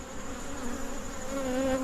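Honey bees at an open hive during a mid-October inspection make a dense, steady buzzing drone close by, with no speech.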